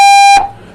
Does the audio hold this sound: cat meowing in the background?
no